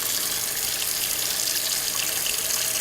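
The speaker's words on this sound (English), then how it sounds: "I'm going to put this plug in the sink to rinse this off" Tap water runs steadily into a kitchen sink as a continuous, even hiss, close and moderately loud, with no voices.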